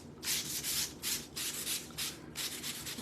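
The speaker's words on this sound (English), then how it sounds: "I'm trying to sand that down where I put a little extra." Sandpaper is worked by hand over a wooden door tag in separate short strokes, about six gritty swipes with brief pauses between them, quiet and close-up with no talking.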